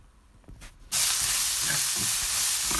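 Onions and salt being stirred in a hot pan for a soybean masala, a quiet start giving way to a loud, steady frying hiss with scraping strokes underneath.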